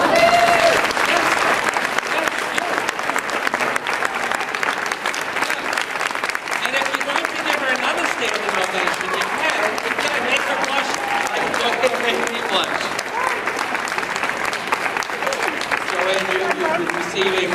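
Sustained audience applause at a women's health recognition event, steady clapping throughout with some voices mixed in underneath.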